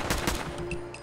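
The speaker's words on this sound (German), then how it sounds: "Schießt du auch, Kate?" Rapid automatic gunfire in the video game Fallout 4, a burst of repeated shots with a steady rattling rhythm, loud and close, with no talk over it.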